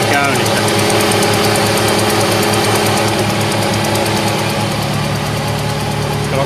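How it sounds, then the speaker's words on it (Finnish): Running supercharger on a 1999 Mercedes-Benz SLK 230 engine under investigation for an exhaust air-feed fault, a close, steady mechanical whine and hum over an even idle with a faint rhythmic knock. "nyt on ahdin käynnissä"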